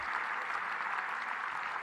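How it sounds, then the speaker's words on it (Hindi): Continuous audience applause filling Talkatora Stadium in New Delhi at a kindness and compassion event, a dense even wash of many hands clapping, steady and somewhat distant. "कंटिन्यूस तालियां बजती रहें"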